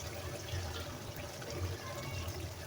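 Cooking water from boiled lentils is poured into a pot of tinda and meat, making a soft, steady trickle and splash that stays faint and constant throughout.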